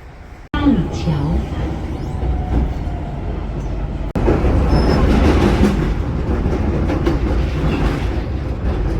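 A train in China rumbles along the rails with a steady low roar and clattering, a brief abrupt cut midway, faint voices underneath.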